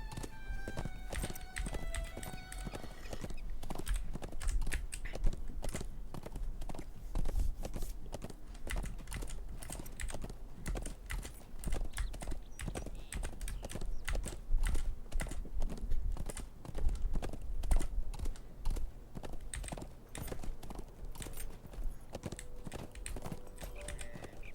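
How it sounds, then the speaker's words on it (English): Horse hoofbeats from riding in Lord of the Rings Online clatter in a steady, repeated clip-clop rhythm across the whole stretch, moderately loud with no talking, and a faint neigh may occur along the way. "it's a nice day for a horse ride."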